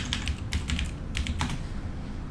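Typing a folder name on a computer keyboard: quick bursts of crisp key clicks in short clusters, close up over a steady low background hum, with no talking.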